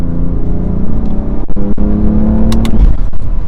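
A BMW F80 M3 Competition with DCT gearbox accelerates hard, its engine note loud and continuous with a steady rising drone and a brief shift interruption, heard from inside the car.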